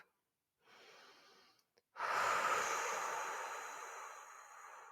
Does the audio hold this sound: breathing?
yes